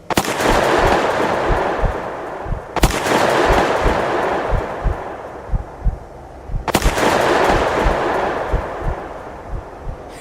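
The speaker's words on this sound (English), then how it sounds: "He raised his gun, took a deep breath," Three sharp, loud gunshots spaced a few seconds apart, each a sudden crack followed by a long fading rumble, set over a dense background of rapid faint thumps like distant gunfire.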